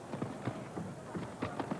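Horse hooves striking turf at a show jumping event, a 1987 Gold Cup triple combination taken slowly and tightly, with a quick run of muffled thuds close by in an uneven galloping rhythm.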